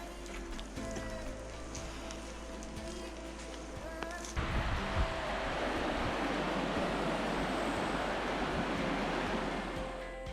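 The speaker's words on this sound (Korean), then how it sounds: "호수는 아주 바람이 엄청 불어서 파도가 치네요" Waves on Lake Gunn in New Zealand, whipped up by strong wind on a rainy day, a loud continuous wash of surf and gusting wind noise that swells midway and holds steady.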